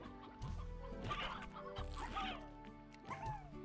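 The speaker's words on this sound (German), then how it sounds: "Ich droppe euch hier ein paar Hühner." Chickens in the video game Slime Rancher cluck repeatedly in a busy, overlapping cluster, close and fairly loud, with warbling calls and short squawks in an irregular rhythm.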